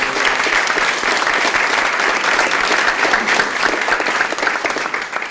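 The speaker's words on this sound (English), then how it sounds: "So give them a round of applause" A crowd gives dense, sustained applause for honorees at an annual literacy awards ceremony, loud and even throughout before easing slightly toward the end.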